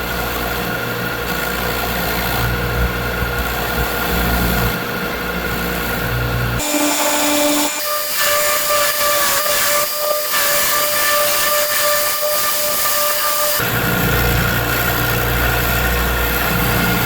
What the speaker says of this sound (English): We're going to go ahead and carve that in with the belt sander.